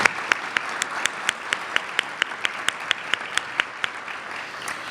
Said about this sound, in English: Could you please join me in giving them all a round of applause?